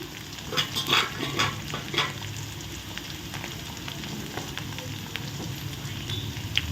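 Steady sizzling of chopped ginger and whole garlic frying in a pan, with a few clinks and stirring scrapes early on, fairly quiet with no talking.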